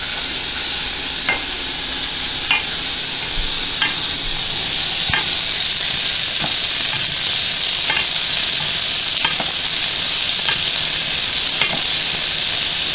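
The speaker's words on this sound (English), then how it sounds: "Now that's sauteing pretty hardcore, so I'm going to turn it down just a little" Spanish chorizo and onion saute hard in a hot pan, a loud, steady broadband sizzle with a few faint scrapes of stirring scattered through, no voices.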